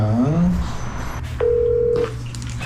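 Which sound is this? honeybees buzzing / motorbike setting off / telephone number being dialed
telephone number being dialed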